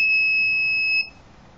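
An electronic alarm buzzer on an embedded locker system, one steady high-pitched tone held loud for about a second before cutting off abruptly, leaving quiet background.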